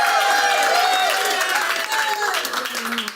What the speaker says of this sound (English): Oh my goodness, who's booing?